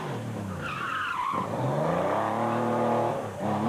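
Porsche rally car racing through a stage at the 1997 Jersey Rally, smoke trailing from the rear, engine note rising and falling through gear changes with tire squeal, passing fairly close and loud.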